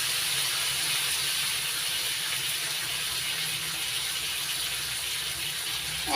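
Chopped tomatoes dropped into hot spiced oil in a pan, giving a steady, loud, broadband sizzle and hiss that runs unbroken throughout with no talking.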